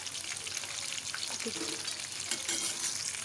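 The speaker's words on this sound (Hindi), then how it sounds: "ये हमारी चिकन फ्राई हो गई है इसको दो से तीन मिनट हो गए" Chicken fries in hot oil for a chilli chicken recipe, a steady bright sizzle with faint stirring clinks, fairly close and continuous.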